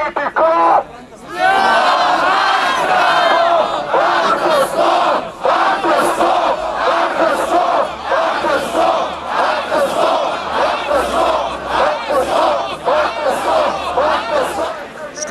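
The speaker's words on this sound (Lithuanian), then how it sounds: "Skanduojam, internetas ne jūsų, o mūsų" At an anti-ACTA rally in a Vilnius square, a large protest crowd chants loud rhythmic slogans in unison, with voices swelling and pulsing close by and continuing for about fifteen seconds after a short gap.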